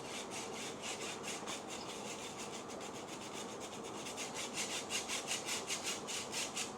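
Cocoa powder is shaken and rubbed through a large-hole sieve, making a steady, close scratchy rasping with quick rhythmic pulses that grow slightly more pronounced toward the end.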